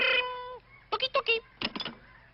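In a 1967 George of the Jungle cartoon, a bird rings like a telephone with a brief steady electronic tone, followed by a series of chirpy voiced syllables that sound close and clear.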